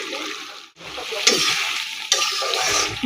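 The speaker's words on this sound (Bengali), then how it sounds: "লাউ রান্না হচ্ছে আর বোয়াল মাছ দিয়ে যে বোয়াল মাছ দিয়ে লাউটা রান্না হবে" Bottle gourd is stir-cooked in a pan for a dish with boal fish, making a loud, close sizzle with stirring scrapes and brief flare-ups as more is added.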